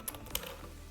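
Keys tapped on a computer keyboard, two or three quick soft clicks close by and quiet, with no one speaking.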